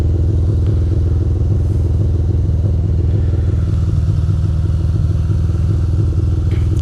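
A Ducati motorcycle engine runs loud and steady throughout a rainy city ride through Manhattan and Queens, its low, throbbing rumble constant and close, with faint clatter mixed in.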